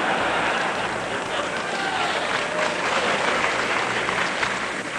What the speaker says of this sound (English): This comment brought laughter and some applause and appeared to shift the mood of the crowd.